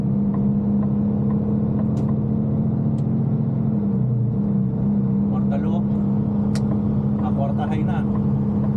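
A truck engine drones steadily in fourth gear, a low, continuous rumble with a strong hum heard from inside the cab. Someone talks over it.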